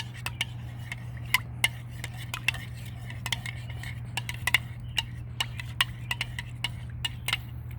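Bubble solution being mixed in a container gives rapid, irregular clicks and taps of a utensil against the sides over a low steady hum, close and fairly quiet.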